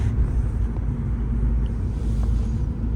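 A Hyundai i20 petrol car picks up speed after a gear shift, a steady, loud low engine and road drone heard from inside the cabin.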